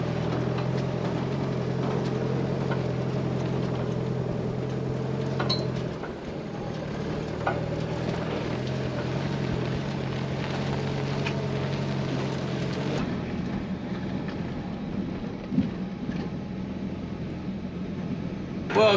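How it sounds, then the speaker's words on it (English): Tractor engine with a sprayer attached, running on an Australian sheep farm: a steady low drone heard from inside the cab, continuous and fairly quiet, its tone shifting slightly partway through. "I'm just in the tractor at the moment, as you can see."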